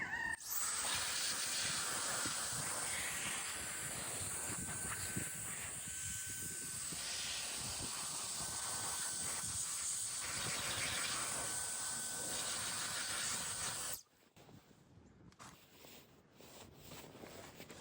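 Air blower forcing moisture off a headlight lens during restoration, a loud steady hiss of rushing air running continuously, then cutting off abruptly near the end to leave quiet, faint rustling.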